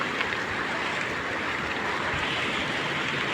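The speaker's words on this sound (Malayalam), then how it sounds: "ഇവിടെ വെള്ളം പാലത്തിൻ്റെ മുകളിലൂടെയാണ് ഒഴുകുന്നത്" Floodwater pours over a bridge into a stream in Kondotty, Kerala, making a dense, loud, continuous rushing roar close by, with no voices.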